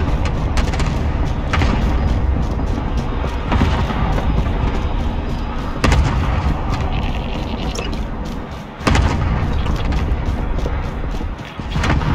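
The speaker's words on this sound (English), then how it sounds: "Cluster strike is active." Cluster strike explosions in Call of Duty Warzone roll through a loud, dense battle mix, with heavy booming thuds and mechanical rumbling that build over several seconds, some sharper impacts standing out against the continuous din.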